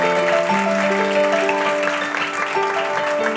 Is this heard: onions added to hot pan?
no